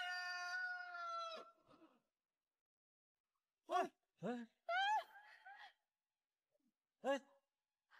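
A hen clucking: a drawn-out squawking call at first, then after a pause several short, separate clucks spaced irregularly, fairly close in an otherwise quiet setting.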